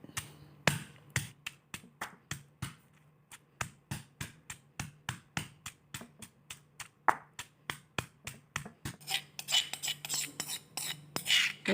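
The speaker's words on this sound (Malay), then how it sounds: "mula-mula kita akan tumbukkan halia" Ginger pounded in a mortar: a steady series of sharp, close knocks at an even rhythm, quickening and crowding together toward the end.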